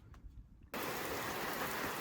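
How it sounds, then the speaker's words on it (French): Rain beginning to fall outdoors beside a Ford Sierra Cosworth being worked on: near silence, then an abrupt switch to a dense, steady hiss of rain that holds loud and even to the end. "Il se met à pleuvoir"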